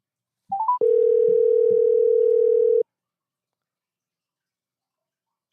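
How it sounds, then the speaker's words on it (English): A phone call connecting: a few short rising tones, then a steady telephone tone held for about two seconds before it cuts off into silence. "He called my other phone."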